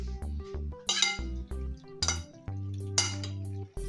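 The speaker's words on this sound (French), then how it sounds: "Pensez bien à tout mélanger jusqu'au fond" Pasta being stirred in tomato sauce in a cooking pot, with a utensil clinking and scraping against the metal in irregular bursts, close by, alongside steady tonal background sounds.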